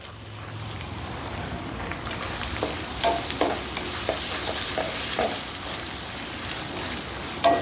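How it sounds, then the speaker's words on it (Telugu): Chopped onions and green peas frying in a pan for hotel-style Karnataka karabath, a steady close sizzle with repeated stirring scrapes and clinks, no talking. "ఇప్పుడు ఈ ఉల్లిపాయ ముక్కల్ని కూడా ఒక నిమిషం పాటు ఫ్రై చేసుకుందాం"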